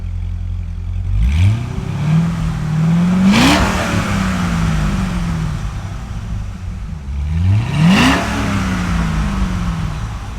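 A Corvette Z06 engine with stock exhaust revs up sharply twice on a dyno, each rising roar peaking then falling back to a rough idle, loud and close.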